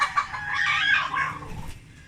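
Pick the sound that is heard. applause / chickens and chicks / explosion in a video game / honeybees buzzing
chickens and chicks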